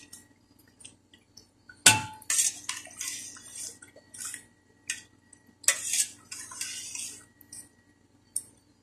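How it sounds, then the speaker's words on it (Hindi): A spoon stirring Pakistani chicken curry in a metal pot, with irregular scraping clinks and clatters against the sides, some sharp and loud, others soft wet stirs between pauses. "अच्छी तरीके से मिक्स करना है इसको। साइडों से ऐसा हिलाना है।"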